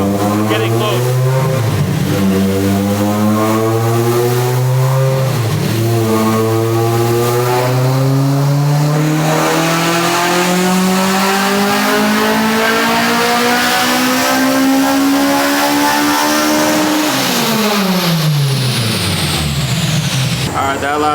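A Honda K20A engine fitted with Toda and Spoon parts, installed in an EG chassis, revs hard on a dyno through several rising pulls, each dropping between gears before one long final climb and a quick fall to idle, loud and continuous throughout.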